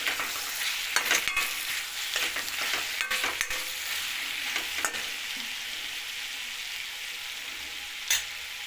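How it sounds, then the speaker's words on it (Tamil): Ingredients for tamarind curry sauté in a pan: a steady sizzle runs under irregular scraping and clacking stirs of a spoon, with a couple of sharper knocks near the start and one more near the end, and no talking. "இப்போ இதையும் நல்லா போட்டு வதக்கி பண்ணிக்கலாம்."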